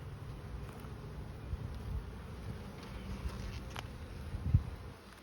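Honeybees buzz in a steady, low drone during a hive inspection, close and continuous, with a few faint knocks and rustles from handling frames.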